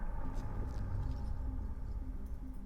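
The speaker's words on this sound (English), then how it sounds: "And then this sounds like this space station." Space station ambience built from a speedway race recording reversed and drenched in reverb, a low, steady rumbling drone with faint drifting swells, quiet and continuous.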